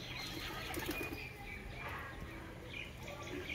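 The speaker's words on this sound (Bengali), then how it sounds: "দেখুন সব পায়রাগুলো নামলো।" A flock of pigeons drops in to land at a feeding spot, their wings flapping in a steady, broad fluttering rustle that continues throughout, with faint bird sounds mixed in.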